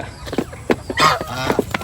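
Male turkeys gobbling and squabbling on a poultry farm, a run of loud, close, harsh bursting calls that stack and overlap over roughly two seconds.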